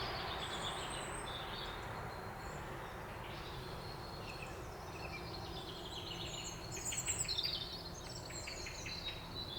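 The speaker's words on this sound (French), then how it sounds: "on entend les oiseaux" Birds chirp and sing faintly in the distance outdoors on a sunny morning over a soft steady background hum, with a slightly louder burst of calls toward the end.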